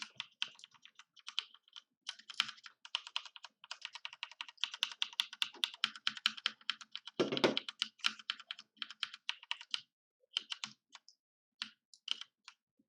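Close, loud typing on a computer keyboard sitting right in front of a microphone, a fast uneven patter of clicky keystrokes with brief pauses and one heavier thump partway through.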